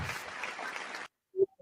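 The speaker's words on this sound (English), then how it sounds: "Let me give them a well-deserved round of applause" About a second of audience applause at a talk in Harlem, a dense burst of clapping that cuts off abruptly, followed by a short isolated tone.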